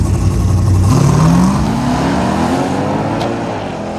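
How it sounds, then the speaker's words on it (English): A race car driven in a drag-racing final accelerates hard, its engine climbing steadily in pitch while loud and close, then fading slightly as it pulls away. "She's driving Ed Kime's car in the finals."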